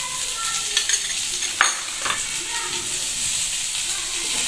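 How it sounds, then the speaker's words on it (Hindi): Chopped onions frying in a pan, with a steady hiss and sizzle and occasional scraping stirs, close and continuous. "तो अब इसमें जो प्याज जो ऐड किया था वो ऐड कर दिया।"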